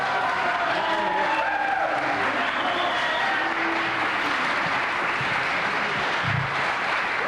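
An audience at a city council meeting over saving Venice tenants' homes cheers and applauds steadily for the whole stretch, a dense, loud wash of clapping and shouting with no pause.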